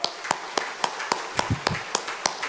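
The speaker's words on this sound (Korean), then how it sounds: "박수 치세요" A church congregation claps during a Sunday worship service, giving sharp, evenly spaced hand claps with a scattered, loose rhythm at moderate distance, with no talking over them.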